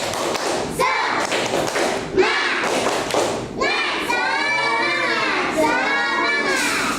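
A group of people, likely children or students in a classroom, clapping a rhythmic spirit clap in bursts of quick claps and thumps, loud and close, with voices chanting between the claps.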